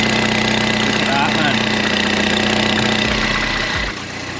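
A Mini Cooper JCW track build idles with a small exhaust blow, a loud steady mid-pitched engine drone with a faint ticking that drops away abruptly near the end.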